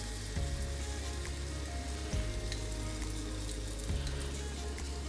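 Tofu pieces frying in a pan, a soft continuous sizzle with a few brief louder crackles and taps as pieces are placed, close and fairly quiet, no talk.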